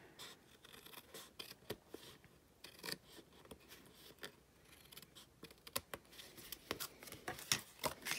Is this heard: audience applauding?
no